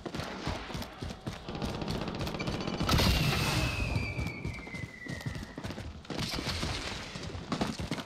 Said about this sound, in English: Shooting over there.